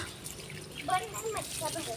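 Water runs from a tap onto potted plants in a terrace garden, a soft close trickle and splash heard under a speaking voice.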